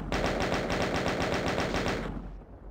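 Rapid, sustained automatic gunfire from a chaingunner enemy in Voxel Doom 2, a fast steady stream of loud close shots lasting about two seconds before cutting off.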